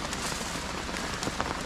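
Rain falls steadily on a riverside cooking spot by the Caura River, a dense hiss of drops with scattered louder patters close by, and no voices.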